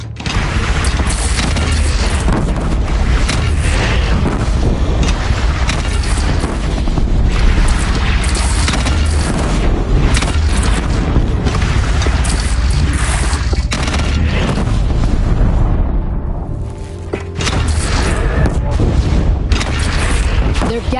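Heavy cannon fire and explosions in the PS4 game Horizon Zero Dawn during a battle against a bandit clan at a bridge, dense repeated booms and blasts rumbling loudly and continuously under battle chatter and shouting.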